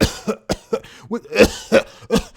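A person imitates a series of coughs with their voice: about six sharp, rasping bursts spaced roughly evenly and heard close up, with no other talk.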